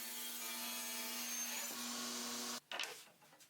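A power saw whines steadily through wood, cutting the frame stock for a modern floating shelf, a sustained tonal buzz that cuts off abruptly near the end, followed by a brief clatter.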